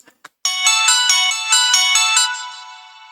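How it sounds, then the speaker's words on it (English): An 80s-style synth lead preset from Analog Lab plays a bright, buzzy sequence of sustained notes after a couple of short clicks. The sound is loud and close and fades out at the end, with no voices. "And then now we just got a like cheesy 80s lead."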